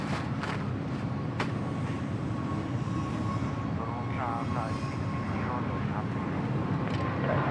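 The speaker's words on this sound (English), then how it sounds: "Nice quick climb out there from the Shanghai bound 320 Neo." A Capital Airlines Airbus A320neo takes off from Bangkok Suvarnabhumi Airport and climbs, heard as a steady distant jet roar that holds evenly throughout, with someone talking over it.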